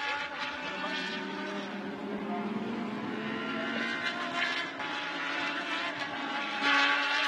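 A Lamborghini Super Trofeo race car passes on the Fuji circuit during a 2018 Super Trofeo Asia race, its engine note rising and shifting pitch through the gears as it sweeps by, loud and close.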